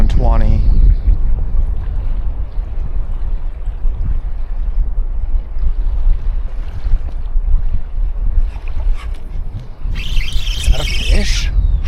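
Strong wind blows across open water during a spring flounder fishing trip aboard a boat, making a loud, continuous roaring buffet that persists throughout, with a brief high squeal near the end.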